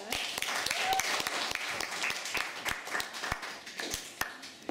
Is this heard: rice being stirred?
no